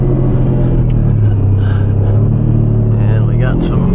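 A Lamborghini Diablo without power steering makes a point turn out of a driveway, its engine rumbling loud and close at low revs with a slight rise, while someone talks over it.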